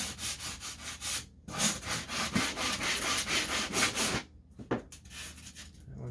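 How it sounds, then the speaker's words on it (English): Sandpaper rubs back and forth over the balsa end grain of a scratch-built RC plane wing core, a steady run of close, scratchy strokes broken by two brief pauses. "This is end grain, so it's not going to be as likely to break off, but still we'll sand that down just a bit"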